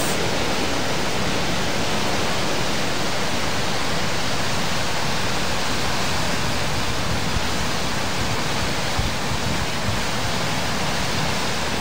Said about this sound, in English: here it is, the Waterfall of the Gods